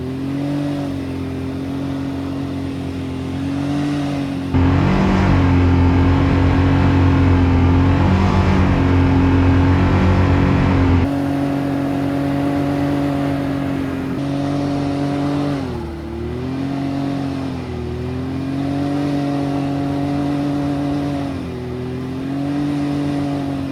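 A UTV engine revs hard and steadily while the vehicle pushes through deep snow after a big storm, a loud close drone rising and falling in pitch throughout, with a surge in the middle and no talk.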